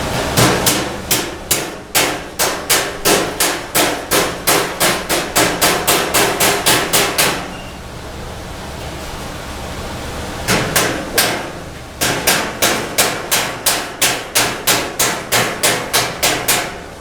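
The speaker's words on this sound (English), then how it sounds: "And it looks like we're gonna have to do hammer and dolly." A hammer and dolly beat a metal dash panel flat on a Mopar dash rebuild, sharp ringing blows in a fast, regular series, broken by a few seconds of quiet, then resuming in steady runs close up.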